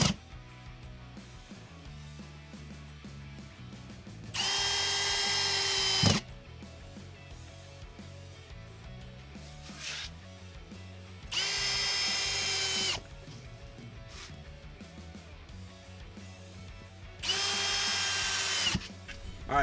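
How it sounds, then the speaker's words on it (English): A DeWalt 20V cordless drywall screw gun whirs in three separate bursts of about a second and a half each, driving screws into drywall, with quiet pauses between. "I'm going to run 4 screws. Boom, boom, boom, boom with the drill."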